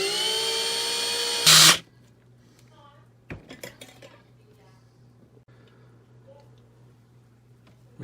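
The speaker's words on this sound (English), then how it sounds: "We got it drilled and stripped" A small power drill works on a die-cast Hot Wheels Ford GT40 toy car with a steady, loud whine that cuts off abruptly, followed by a few light metallic clinks and taps in near silence.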